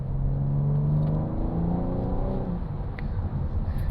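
A BMW M4 Competition Convertible engine drones loudly and up close with a deep, steady rumble that eases slightly midway, alone without talk.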